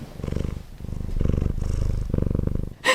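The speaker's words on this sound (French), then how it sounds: "je sais pas si vous l'entendrez, il ronronne." A cat purring close up, with steady rhythmic rumbling pulses of breath in and out over a few seconds before a brief rustle at the end.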